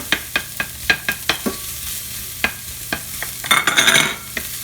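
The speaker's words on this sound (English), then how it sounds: "As it's sauteing, we're going to go ahead and add our sausage." Sausage sautéing in a hot pan for a pasta meat sauce, with sharp utensil scrapes and clacks in a steady rhythm over a soft sizzle that swells into louder crackling frying near the end.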